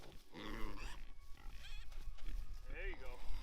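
A dozen or so pigs out in overgrown back fields on a farm grunt and oink repeatedly at close range, with the grunts coming in irregular bursts.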